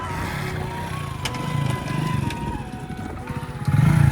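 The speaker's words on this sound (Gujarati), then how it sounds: "તમે પેલા બાઇક ચાલુ કરો ભાઈ." A motorcycle engine idles and revs unevenly nearby, its low throbbing growl rising louder toward the end, with faint voices in the background.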